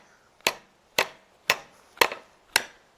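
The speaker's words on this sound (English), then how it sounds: "I can pound nails with a flex post" A nail is struck with a flexible plastic bollard post used as a hammer, five sharp, evenly spaced knocks about half a second apart, close and distinct with no talk.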